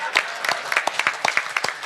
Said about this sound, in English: I'm gonna clap for it myself.